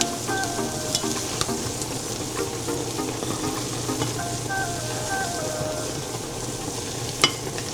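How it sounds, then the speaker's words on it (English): Burrito filling with smoked paprika sizzles steadily in a pan while being stirred, a continuous frying hiss broken by occasional scrapes and one sharp clack near the end. "I'm just giving it a quick stir."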